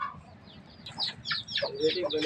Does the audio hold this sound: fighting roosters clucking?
yes